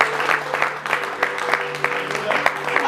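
Congregation clapping in church during a worship service, steady dense applause with sharp individual claps throughout, heard under a continuous musical drone and some voices.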